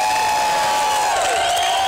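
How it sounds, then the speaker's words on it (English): Huge crowd of thousands at a Bilderberg protest in Watford, a dense outdoor murmur of many voices with faint cheering, loud and continuous throughout. "show everybody this huge crowd of people, thousands and thousands, with thousands more being turned away"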